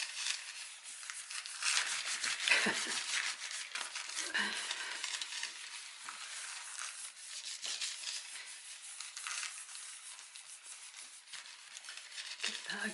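Tissue paper is rubbed steadily onto a gelli printing plate over a stencil, producing a continuous soft, papery scratching and rustling close to the microphone, with faint breathy noise and no clear talking.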